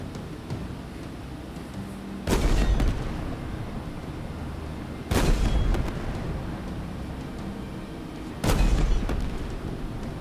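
Heavy weapons fire in Halo Infinite, with three sharp, booming blasts spaced a few seconds apart punching over a steady rumble of background combat noise, loud and close, no voices.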